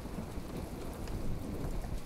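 Steady rain pours down with a low rumble of thunder rolling underneath in the game From the Depths, a dense, continuous wash of sound with no voices.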